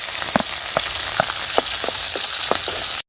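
Capsicum frying in hot oil in a pan, a dense continuous sizzle with scattered sharp pops and crackles, close and loud, ending abruptly.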